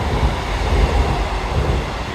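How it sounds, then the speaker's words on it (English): A train rumbles past in a steady, loud, close roar with no voices. "Another train going past."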